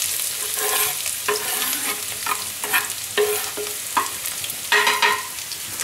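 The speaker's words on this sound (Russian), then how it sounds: "шипит, знаешь, нагрелся." Meat for a bolognese pasta sauce fries in hot fat in a pan, a steady close crackling sizzle with bursts of louder spitting and occasional stirring scrapes, no voices.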